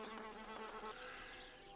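A housefly buzzes faintly indoors, a continuous droning hum that wavers in pitch for a couple of seconds with nothing else over it.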